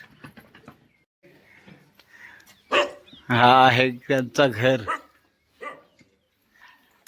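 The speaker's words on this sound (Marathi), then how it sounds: "हा डॉगी भुकतो इथं" A dog barks a few times in a quick burst, fairly close, while someone talks before and after.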